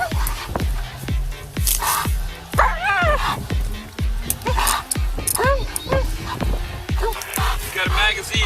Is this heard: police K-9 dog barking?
yes